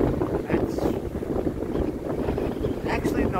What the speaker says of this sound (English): It's a dead windy.